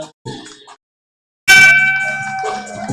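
At a track cycling race, a bell signalling the final laps gives a few short dings, then a pause, then a louder, sustained ringing clang that lingers and fades slowly.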